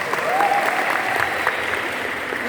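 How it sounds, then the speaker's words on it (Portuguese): A room full of people at a prayer group seminar applauds for Aparecida, steady close clapping that holds throughout the short burst. "Uma salva de palmas para Aparecida."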